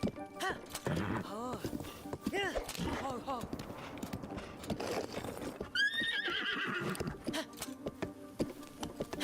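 A horse named Storm whinnies loudly in a couple of drawn-out, wavering calls, with hooves clip-clopping throughout and a voice speaking intermittently over it.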